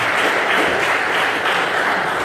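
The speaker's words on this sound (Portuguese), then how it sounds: "Dê uma salva de palmas para ele no nome do Senhor Jesus." A church congregation applauds in a steady, dense roll of clapping that fills the room evenly throughout.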